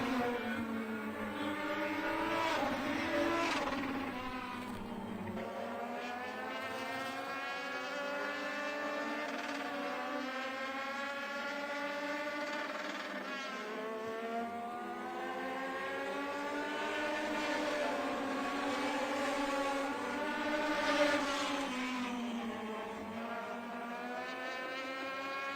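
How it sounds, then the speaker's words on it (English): Legends race cars lap the track at Dillon Motor Speedway, a steady droning engine roar that rises and falls in pitch as the cars pass, heard at a distance for a long stretch. "You got plenty of racing action as the next 4 is on the track."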